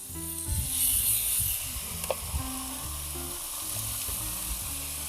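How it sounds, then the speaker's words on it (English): Marinated chicken frying on a Cuisinart cooktop, with a steady, close sizzle and crackle throughout, a brighter hiss swelling early and an occasional sharper pop. "we're cooking the chicken, marinated chicken, on the Cuisinart"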